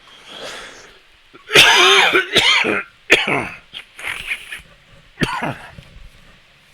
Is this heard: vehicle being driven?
no